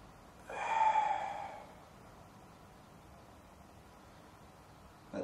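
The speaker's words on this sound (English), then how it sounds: "So breathing counts for a lot" Heavy breath from a person doing a morning squat, one loud exhale or gasp lasting about a second, then quiet background hiss with a faint sound at the very end.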